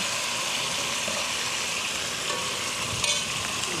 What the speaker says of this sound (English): So I'm gonna add the crawfish, and we just wanna kinda heat it up,